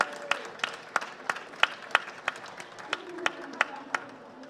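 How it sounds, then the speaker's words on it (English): Scattered claps ring out for performers dressed as zombies at a live show, a sparse, uneven round of individual hand claps spaced apart rather than a full ovation, with faint crowd murmur beneath. "I think we need another round of applause for the zombies and Carl."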